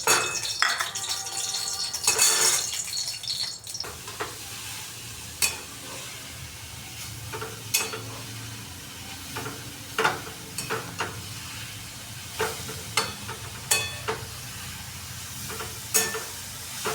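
Grated carrots sauté in ghee in a wok with a soft continuous sizzle, broken by regular clinking scrapes of a spoon stirring against the metal, close up and with no talk.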